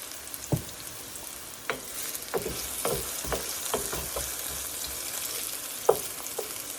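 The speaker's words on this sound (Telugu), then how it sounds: "ఇంకా వేగాల, కాస్త బ్రౌన్గా వేగాల." Brinjal (eggplant) pieces fry in a pan with a steady sizzle, broken by scattered sharp clicks and scrapes of stirring spaced through the stretch; no one speaks.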